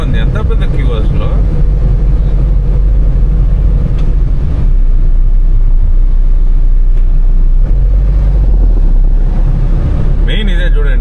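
A 16-year-old Tata Indica V2 diesel car cruising in fourth gear, its engine a loud, constant low drone with heavy wind buffeting, and someone talking over it.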